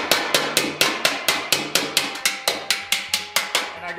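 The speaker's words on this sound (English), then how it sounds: "you want to be pinching the metal between the surface of the ball and your hammer" A hammer shapes sheet metal over a ball stake while making a Hornet mask from Hollow Knight, sharp ringing blows falling in a quick, even rhythm, about four per second, close and alone.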